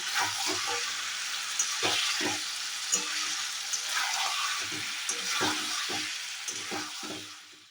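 Water poured into a hot pan of nearly cooked potatoes gives a steady, close, bright sizzle, with repeated scraping clanks of a spoon stirring through it.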